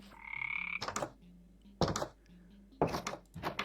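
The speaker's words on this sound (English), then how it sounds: "There's a ribbit." Croaks from ribbits, frog-like villagers in a swamp village in modded Minecraft, sound as several short, loud, separate calls spaced through the clip over a quieter tonal game background.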